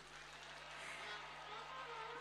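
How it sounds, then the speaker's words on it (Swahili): Applause rises and holds as a steady, fairly faint wash from an audience at an International Widows Day gathering in Nyamira, continuing evenly without pause. "Tumpe makofi tena jamani"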